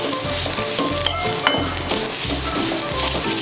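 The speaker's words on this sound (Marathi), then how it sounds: "यामध्ये मी पाव चमचा हळद घालून घेते आणि व्यवस्थित हे बघा मिक्स करायचं आहे" Turmeric being mixed into a frying onion-and-coconut masala for Malvani vatan, loud rhythmic scraping and stirring strokes against the pan over a steady sizzle, with occasional utensil clinks and no talking.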